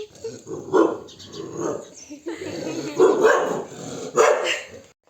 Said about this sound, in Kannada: ಇವ್ರ ನಾಯಿ ಹೆಂಗ್ ಉಳ್ತಾ ಇದೆ ಬಂದ ತಕ್ಷಣ